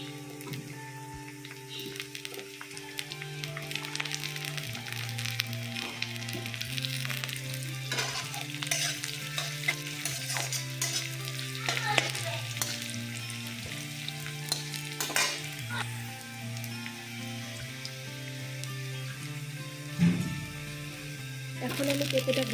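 Potatoes and papaya sizzle steadily in a pan, frying alongside a faint egg and potato dish while a spatula stirs and scrapes in short strokes, fairly quiet and close.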